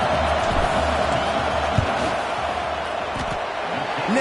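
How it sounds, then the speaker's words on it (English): Stadium crowd noise from a college football video game, a dense steady roar of fans with scattered thumps, running under a commentator's voice. "This crowd trying to do its part to get inside the kicker's head."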